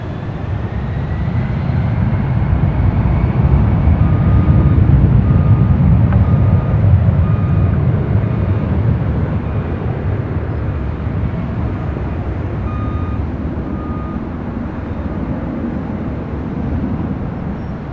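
A Delta jet takes off from runway 24 left at LAX, a steady, loud, broad roar that swells slightly and holds throughout without any talk.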